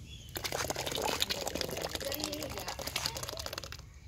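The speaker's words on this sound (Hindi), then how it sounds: "अब इसमें हम लोग कौरमा डालेंगे" Korma poured into a pot of haleem cooking outdoors in a village, a steady wet splashing and glugging pour lasting several seconds, close and fairly quiet.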